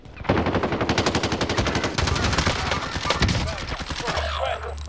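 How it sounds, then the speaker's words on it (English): Rapid automatic gunfire from a multiplayer shooter video game, loud and continuous for several seconds as bursts overlap, fading near the end into lower ambient rumble. "I'm taking fire here."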